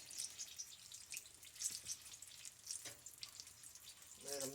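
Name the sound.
apple fritters frying in oil, lifted with slotted spoon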